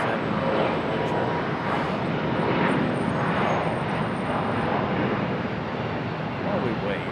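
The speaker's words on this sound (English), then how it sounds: "So we're gonna have back-to-back 777 departure." A Boeing 777 airliner departs Charlotte Douglas International Airport with a steady, broad jet engine roar heard from some distance, along with wind noise and a faint voice underneath.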